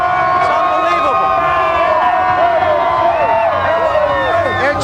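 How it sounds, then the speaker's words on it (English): Crowd of fans cheering and shouting at the Phillies championship parade in Philadelphia, a steady loud roar with whistles and overlapping voices sustained throughout. "They're cheering."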